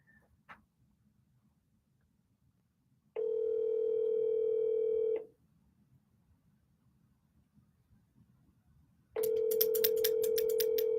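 Telephone call tones from a phone-a-friend call, two long steady electronic tones, the first about two seconds, the second starting later and running to the end, with near silence between them.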